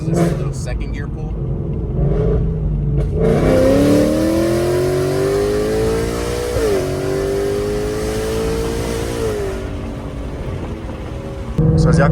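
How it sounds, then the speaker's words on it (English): A 2024 Ford Mustang GT fitted with headers pulls hard in second gear, its raspy exhaust rising in pitch through a long loud acceleration, then easing off. "this is just a little second gear pull"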